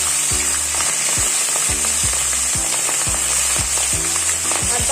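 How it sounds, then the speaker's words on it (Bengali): Green chilies sizzle loudly in hot oil tempered with cumin, a steady hiss filling the pan with crackles throughout and no voices over it. "কাঁচা লঙ্কা দিয়ে দিচ্ছি।"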